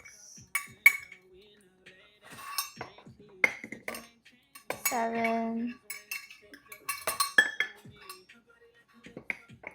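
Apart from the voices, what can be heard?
metal utensil clinking against pans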